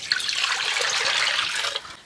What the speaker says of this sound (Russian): Ставим в кастрюльку и наливаем воды.